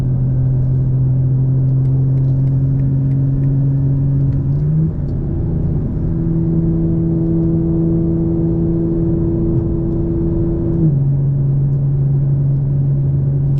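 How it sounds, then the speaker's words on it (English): A steady, low engine drone from a 2024 BMW M4 Competition xDrive cruising in seventh gear at about 80 mph, with a constant tonal hum that shifts pitch slightly midway, then settles back. "this is what the car sounds like, 7th gear, cruising 80 miles an hour"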